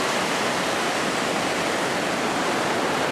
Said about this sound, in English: the sheer power of the water is evident as it forces its way down the valley.